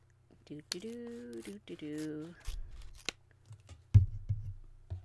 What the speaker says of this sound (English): let me grab a pair of scissors here, and I'm going to open up the mystery set